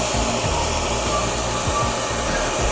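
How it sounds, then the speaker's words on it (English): Hair blow dryer warming headlight protection film on a 2018 Volkswagen Golf R in a cold garage, a loud, steady close-up whooshing roar throughout. "So I'm just going to use my blow dryer to do that."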